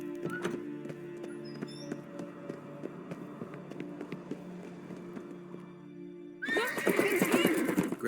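A horse whinnies in The Witcher 3 with a loud, bright burst near the end, following a stretch of steady tonal game music and scattered taps.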